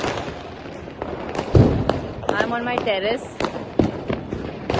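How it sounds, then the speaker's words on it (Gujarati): Diwali firecrackers burst around a terrace at night, several sharp pops and crackles, some near and some distant, while someone talks over them. "ફટાકડા ફૂટે છે મસ્ત"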